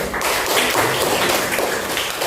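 Students in an Indonesian classroom clap their hands together in a steady, dense round of applause lasting a couple of seconds, close and fairly loud, with no talking over it.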